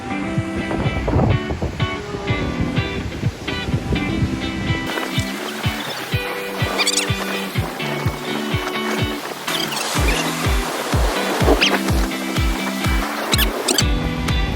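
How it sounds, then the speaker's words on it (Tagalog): Strong coastal wind at the Queen's Head rock in Taiwan roars into the microphone in steady broadband gusts, with repeated low buffeting thumps as a raincoat flaps hard throughout, with no talking. "sobrang lakas ng hangin, nalilipad yung raincoat ko"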